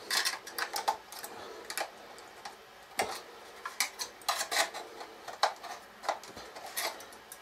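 Repeated sharp metallic snips and clicks of scissors cutting through thin tin sheet, in quick irregular bursts at close range.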